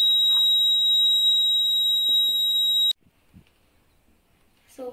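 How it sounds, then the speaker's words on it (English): A buzzer on a homemade water level sensor model sounds in one loud, steady, high electronic tone for about three seconds, then stops abruptly, leaving faint handling noises. "the buzzer will ring"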